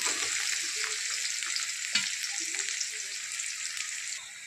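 Chopped onions sizzle steadily in a hot pan while moong-style matki dal with onion is being cooked, with a few soft scrapes of stirring over a continuous bright hiss; no talking.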